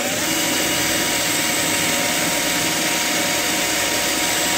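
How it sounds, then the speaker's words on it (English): A power drill bores a hole through the steering shaft of a Ford Mustang Fox body during a solid steering shaft conversion. The motor whines steadily and loudly for the whole stretch, with no talking. "drill a hole through here and insert a bolt"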